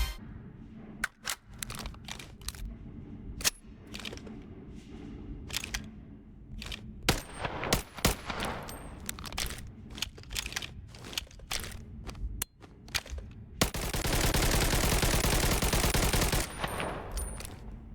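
Rapid bursts of AKM rifle gunfire from a Bonelab VR game mod, sharp repeated shots with short pauses building to a sustained dense automatic burst near the end, loud and close, with no talking.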